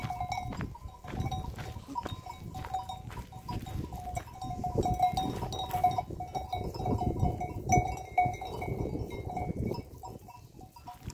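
Sheep and goats of a flock bleat repeatedly at close to mid distance over a steady rustle of animal movement, with occasional cowbell-like clinks, and no talk.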